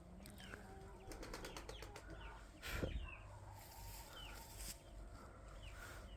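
Soft, quick fluttering of a pigeon's wings with a burst of flapping as it is released, alongside faint chirps and outdoor ambience; quiet and somewhat distant.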